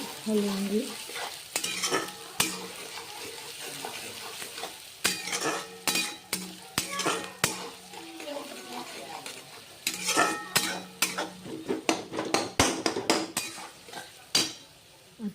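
Vegetables are stirred in a frying pan with a utensil: bursts of scraping and clinking strokes over a soft sizzle, with pauses between them.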